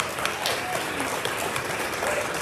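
An audience at a College of Business event applauds, a dense, steady wash of many hands clapping that holds evenly for a few seconds.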